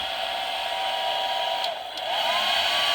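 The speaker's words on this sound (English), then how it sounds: "So, I'm going to put it into the blow dryer for a few seconds." A blow dryer drying a homemade transfer made from copy paper and Mod Podge, a loud, steady whooshing roar that dips briefly near the middle before returning to full strength, heard alone close up.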